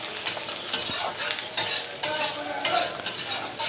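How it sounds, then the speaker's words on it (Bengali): Chopped onions and green chillies sizzle in hot oil in a pan, with a steady frying hiss and recurring bursts of stirring and utensil scrapes throughout. "পেঁয়াজটা দেওয়ার পরে আমি এগুলোকে ব্রাউন কালার হয়ে আসা পর্যন্ত ভেজে নেব"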